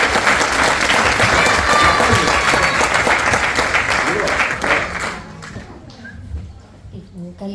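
Audience applause at a Greek book presentation rings out strongly for about five seconds, then thins and fades to scattered claps and room noise with faint voices.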